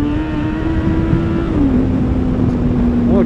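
A Yamaha FZ6 Fazer four-cylinder motorcycle with an aftermarket Two Brothers exhaust drones steadily at speed, close and loud, its pitch dipping slightly midway under continuous wind noise.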